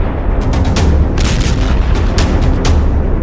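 Explosions and artillery fire in war footage, a dense run of loud booms and sharp bursts in quick succession, close and heavy, with no talking.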